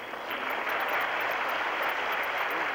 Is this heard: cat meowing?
no